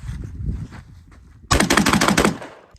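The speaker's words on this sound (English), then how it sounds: "I'm gonna dump the mag real quick" A budget shotgun fires a rapid string of loud, close blasts as the magazine is emptied in about a second, following a quieter stretch of handling noise.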